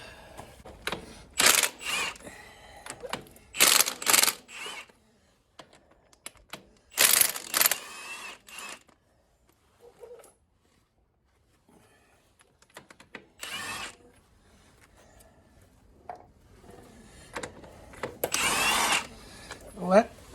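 Bolts being loosened and removed from the inner final drive housing of a Windolph tractor, heard as repeated loud bursts of power tool whirring separated by pauses, with quieter clanks and some speech between them.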